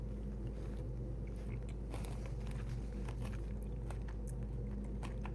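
Someone bites into and chews a slice of tomato pie with a flaky, crispy crust and bacon on top, soft crunches and chewing repeating close up over a low steady hum.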